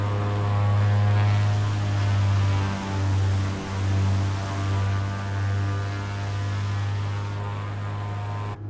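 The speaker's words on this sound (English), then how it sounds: "I thought we were gonna have more power than that. That was a terrible takeoff." Tailwind bush plane's propeller engine drones steadily just after takeoff, a loud, continuous low hum with a strong steady tone throughout, slightly wavering in level, with no talking.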